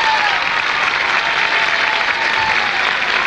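An audience bursts into loud, sustained applause to welcome a band, dense clapping filling the hall evenly from start to finish.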